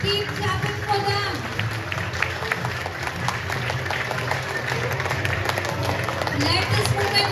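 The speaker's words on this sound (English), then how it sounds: "Keep clapping for them." An audience at a school student council oath ceremony claps steadily for the newly elected head boy and head girl, a dense, sustained crowd sound that fills the whole stretch at moderate distance.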